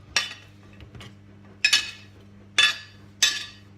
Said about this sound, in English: And now I'm just going to slide on my potatoes.